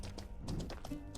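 Horse hooves clip-clop in the online role-playing game Mortal Online 2, a quick run of soft, even thuds in steady rhythm, fairly quiet and close, with no talk over them.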